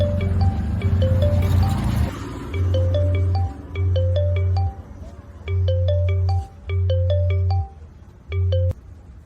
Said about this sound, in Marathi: फोन वाजतो, फोन उचला.